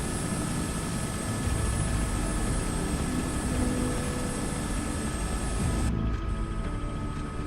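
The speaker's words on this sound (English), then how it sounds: "Wow, it's a group of 2024 helicopters." Inside a Robinson R66 helicopter in group flight over Vancouver Island, a constant close rotor and turbine roar with a thin high whine fills the cabin and holds steady throughout, with no voices.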